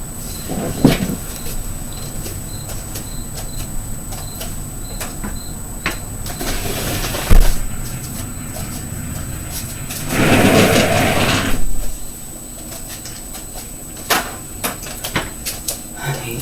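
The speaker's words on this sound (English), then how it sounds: "that little garbage can that they be wheeling around is so loud" A small garbage can being wheeled around a parking lot makes a rolling, rattling rumble that swells for a couple of seconds, amid scattered clunks, knocks and a steady background noise.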